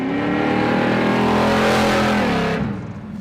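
A 1970 Chevelle SS 454 LS6 big-block V8 with a solid lifter cam revs loudly, its throaty, harmonic-rich roar climbing steadily and then dropping off sharply near the end.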